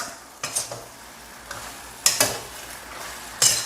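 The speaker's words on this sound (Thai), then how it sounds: "ให้ซอสร้อนๆขึ้นมาแบบนี้ครับแล้วก็ใส่กุ้งลงไป ผัดในซอสครับ" Shrimp stir-fried in hot salted egg sauce, a spatula scraping and clanking against the pan in a few sharp strokes over a soft, steady sizzle, nearby with no talking.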